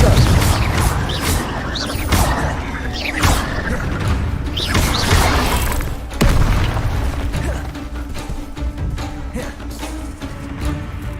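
Spells cast in the Hogwarts Legacy video game, including a Confringo explosion: a run of bursting booms, whooshes and crackling magical blasts over continuous game ambience, fairly loud and dense throughout.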